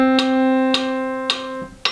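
A single sustained musical note from a reading-music rhythm lesson, held steadily for four beats, with faint metronome-like clicks marking each beat behind the tone.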